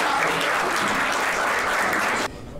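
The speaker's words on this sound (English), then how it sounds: "Round of applause, please." Applause from an audience at the 2022 Trinity Grammar school formal, a steady dense wash of clapping from many hands that fills the moment and cuts off sharply near the end.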